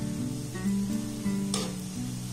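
Milk powder and flour sweets sizzle steadily in hot oil while a spoon stirs and scrapes through them, with a brief bright clink partway through.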